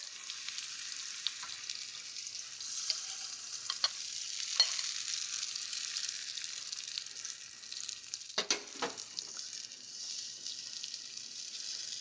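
Eggs frying with onions and tomatoes in a pan for a ricotta frittata give a steady, close sizzle with occasional sharper crackles and stirring scrapes throughout, with no talking.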